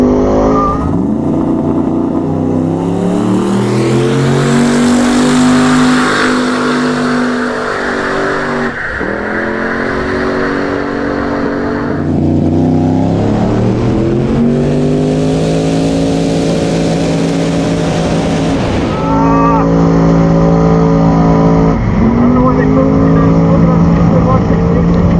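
A twin-turbo LS-swapped Nissan 240SX makes a quarter-mile drag run, its engine screaming loud and close as it climbs through rising pitch sweeps with sharp drops at each gear shift, a commentator's voice audible beneath.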